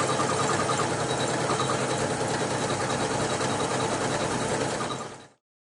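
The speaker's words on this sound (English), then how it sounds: "Notice how quiet the machine is, how smooth the embroidery is on it." A Janome 400e embroidery machine stitches at one of its slowest speeds, giving a steady, smooth mechanical whir with a fine rapid rhythm. It runs loud and close without pause before cutting off near the end, with no talking.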